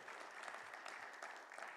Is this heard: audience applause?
yes